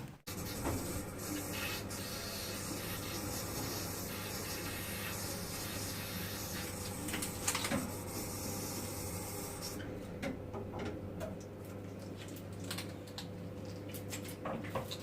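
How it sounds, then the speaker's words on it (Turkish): A combi boiler filling with water and then running during radiator and heating system flushing, giving a steady low mechanical hum with faint hissing and rubbing noises, quieter toward the end. "Şimdi arkadaşlar tekrar kombiye su basacağım. Ee, biraz çalıştıracağım."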